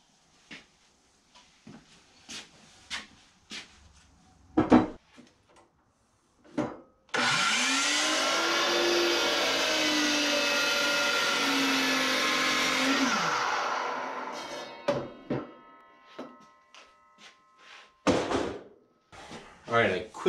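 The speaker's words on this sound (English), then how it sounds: "The first thing we want to do is cut that 12-degree angle, not 15" A power saw cutting a 12-degree angle in wood, with a loud sustained whining cut lasting several seconds as the blade spins up and winds down, framed by scattered knocks and handling clatter before and after.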